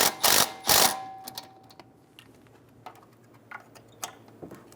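A bolt on a brake line bracket of a 2007-2011 Toyota Camry is tightened with a hand tool, starting with two loud ratcheting bursts close up, followed by sparse faint clicks and small metallic taps.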